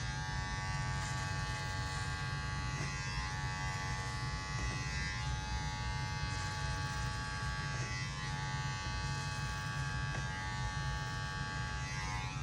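Electric hair clippers buzzing steadily and close while cutting hair at the nape during a low drop fade, a continuous hum with slight changes as the blade moves through hair.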